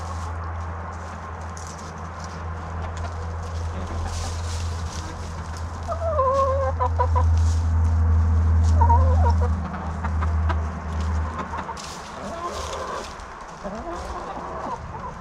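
Backyard chickens clucking and murmuring in a coop, a continuous close chorus of low clucks with a few sharper calls, someone talking softly over them.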